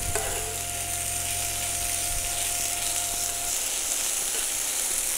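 Steady close sizzling of turbot and potatoes cooking in a pan, with an even frying hiss that holds throughout, a faint tone fading partway, and no talk.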